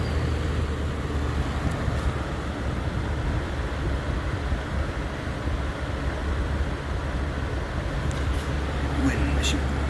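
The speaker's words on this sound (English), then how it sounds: "Wind machine." A 1993 Galaxy Wind Machine II fan runs on low, giving a steady, even whoosh of moving air with a low hum underneath, while a voice talks over it.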